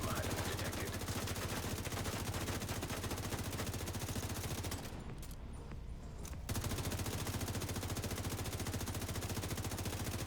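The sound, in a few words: gunfire in video game The Division 2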